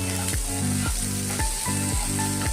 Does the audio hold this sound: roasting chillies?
yes